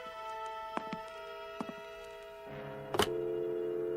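A telephone is dialed in a radio drama: a sequence of touch-tone beeps over a steady line tone, several short clicks between, then the tone changes and a loud click cuts in near the end.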